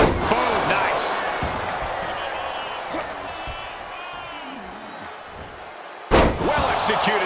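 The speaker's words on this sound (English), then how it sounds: "Well-executed suplex." Heavy body slams from wrestlers in the WWE 2K24 video game, with a loud thud near the end over a constant arena crowd roar and commentary.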